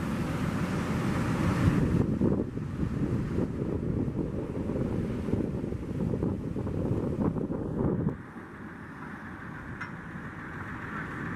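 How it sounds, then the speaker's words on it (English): Wind buffets a microphone on a boat at the St Lucia Estuary, a steady low rumble with gusty surges that drop noticeably quieter toward the end, no voices present. "The wind is blowing straight into our face"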